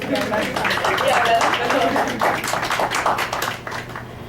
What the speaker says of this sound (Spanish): Para la profesora Miralba pido un fuerte abrazo, un fuerte aplauso.